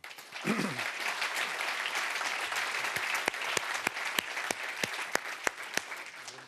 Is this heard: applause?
yes